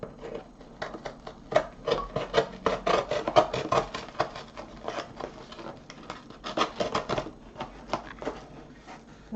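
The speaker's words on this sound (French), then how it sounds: "Est-ce que le scalpel, ça coupe ça?" A scalpel saws and scrapes through a cardboard box in rapid rasping strokes, a dense run of close scratchy cuts with a brief pause in the middle, fairly quiet and without talking.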